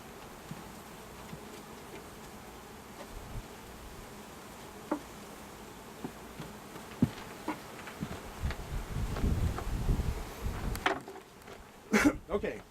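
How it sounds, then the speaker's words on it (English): Honey bees hum around a hive shaken out after a drone-laying queen problem, a continuous buzzing swarm with scattered ticks and knocks, growing louder near the end with brief handling noises. "All the old bees are out here. Kicked them out of the hive."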